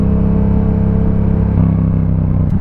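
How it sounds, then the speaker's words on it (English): A motorcycle engine revs steadily after a downshift from third gear, a loud, close, continuous rumbling drone with a slight rise in pitch and no talking. "Pull in the clutch, kick down on the gear shifter, and you're going to ease out of the clutch and give it a little bit of gas."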